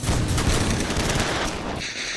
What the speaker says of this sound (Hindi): अब वो हम पे गोली चला रहे